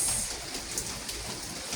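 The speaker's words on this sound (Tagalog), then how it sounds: "lakas ng hangin ng pagbagsak ng ulan talaga" Heavy rain driven by strong wind during flooding in Dagupan City, a steady broadband wash that hisses on without letup and stays loud and close, with no voices.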